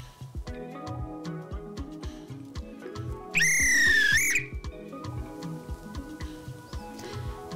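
A shrill referee whistle blast of about a second cuts through loud, rhythmic background music, then stops.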